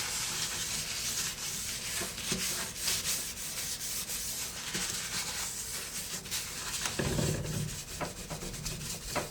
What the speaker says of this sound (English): Let it sit for a few minutes, and then I'm about to wipe it down.